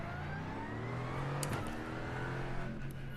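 An LMP3 prototype race car in iRacing at the Hungaroring sweeps past with a high, rising engine whine that swells and fades quickly, heard alone without voices.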